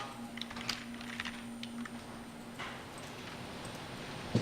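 Quiet clicking of keys on a computer keyboard while entering copy and paste shortcuts in PLC drawing software, a few scattered soft taps over a steady room hum.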